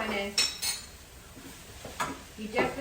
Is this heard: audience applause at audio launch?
no